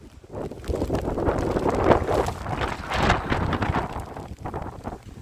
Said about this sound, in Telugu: చూడండి ఫ్రెండ్స్ ఎలా ఉందో, విపరీతమైన గాలి